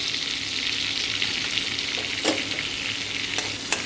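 Two dried red chillies and white cumin seeds fry in butter for a carrot, capsicum and paneer dish, a steady close-up sizzle with scattered crackles and a few utensil scrapes, without talk.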